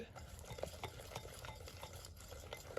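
Besbousa batter ingredients are stirred together in a bowl, a soft, continuous scraping and mixing sound with faint utensil taps, close up and quiet with no talking.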